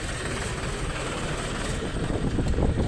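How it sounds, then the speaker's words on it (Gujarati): A farm tractor pulls up with a heavy, continuous low engine rumble that fills the scene and swells slightly louder toward the end. "આપણો જો ટ્રેક્ટર આવી ગયો"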